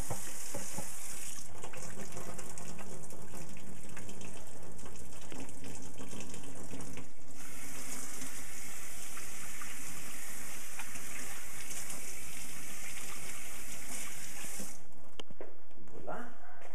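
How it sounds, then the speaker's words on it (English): Kitchen tap running loudly and steadily while hands are washed, the water's hiss and splash shifting as hands move under the stream, with a voice heard now and then. "I'm just going to wash my hands quickly."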